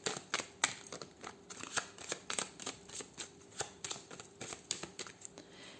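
A deck of 32 playing cards being shuffled, a quick, irregular flurry of soft riffling and snapping card sounds, close but quiet, with no talking.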